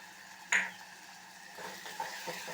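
Onion and peeled garlic cloves sautéing in oil after mustard seeds have popped, a faint low sizzle with one sharp utensil clink near the start and a couple of softer taps later.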